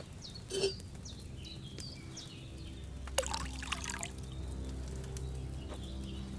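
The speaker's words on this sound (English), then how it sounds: "So, what did you pour in there? Wine, of course." Wine poured from a pitcher into a cauldron in the game Kingdom Come: Deliverance II, a faint trickling pour over a low ambient hum, with soft distant birdsong.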